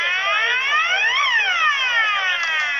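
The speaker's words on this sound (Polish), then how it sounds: "Ten wasz wóz też ma syrenę strażacką?" A fire engine siren wails alone, loud and close, its pitch sweeping up and down in steady electronic cycles.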